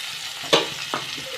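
Tomatoes frying in a pan, a low sizzle with two quick spatula scrapes in about a second, close and brief, no talking.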